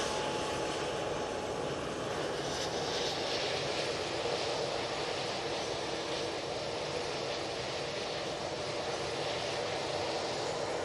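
An easyJet Airbus A320neo taking off at Manchester Airport, a loud, steady engine roar and broad hiss that fills the whole stretch without letup.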